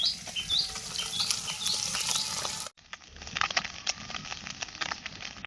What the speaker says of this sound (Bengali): এখন আমি মাছটাকে নেড়ে দেবো।